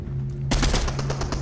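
Rapid automatic gunfire from a Fortnite match bursts in suddenly after a brief lull, a dense, loud stream of shots that continues to the end.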